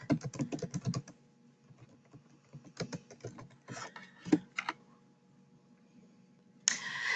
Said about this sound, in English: then you're just going to type in the title that you have in hand